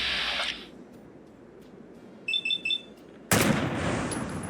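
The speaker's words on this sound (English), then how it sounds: "Shooting a Molotov cocktail mid-air makes it explode like a regular fragmentation grenade" A thrown Molotov cocktail shot in mid-air with a unique pistol in Fallout 4 explodes like a frag grenade: a few quick shots are followed by one sudden loud blast that rolls on into a sustained roar.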